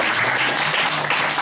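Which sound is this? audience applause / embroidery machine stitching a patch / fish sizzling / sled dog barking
audience applause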